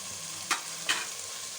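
Keema with red chilli powder, turmeric and salt fries in a pan under a steady hiss, with two quick stirring scrapes cutting through the sizzle.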